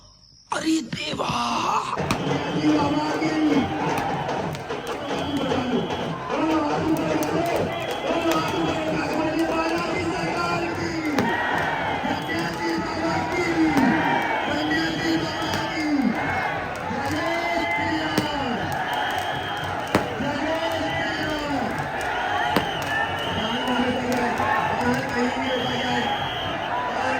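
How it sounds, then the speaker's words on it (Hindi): A dense crowd gathers along the route of Dhirendra Shastri's road show in Khurai, a steady loud roar of many voices with shouting, chanting and rhythmic swells that continue throughout. "चलो पहले मैं आपको भीड़ दिखाती हूँ यहाँ"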